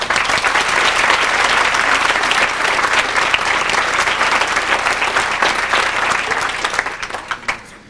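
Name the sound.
audience applause for a speaker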